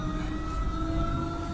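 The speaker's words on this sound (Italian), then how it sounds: "Siamo sull'S60 di Lugano, che è un tram." Steady rumbling interior noise of the S60 tram-train running in Lugano, a continuous wheel and motor drone with a faint electric whine and no voices.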